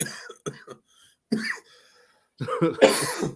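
A man coughs several times in short, sharp bursts separated by pauses, ending with a harsher, louder cough close to the listener.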